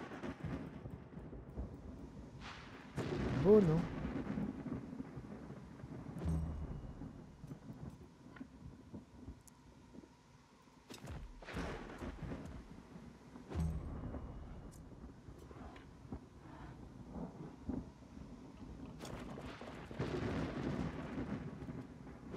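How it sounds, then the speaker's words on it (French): Thunder and rain during a night battle in the video game Wartales: a steady patter of rainfall with several loud rumbling thunder rolls, close and heavy, with a brief spoken remark in the middle. "C'est bien de combattre avec dans la nuit, avec le bruit du tonnerre,"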